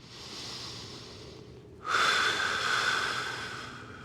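A person holding a plank in a yoga flow breathes heavily: one long, soft exhale, then a louder, rougher breath taken close to the microphone.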